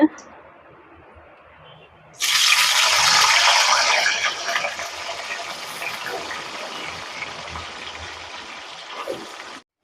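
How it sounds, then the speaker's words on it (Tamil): Salted eggplant slices hit hot oil with a sudden loud sizzle that then settles into a steady, softer crackling fry. "இங்கே எண்ணெய் கொதிச்சுட்டு நாங்கள் கத்திரிக்காயை பொரிச்சு எடுப்போம்"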